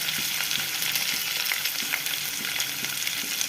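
Chopped onions fry in a hot pan for a crispy okra dish, giving a steady, close, even sizzle with faint crackles and no talking.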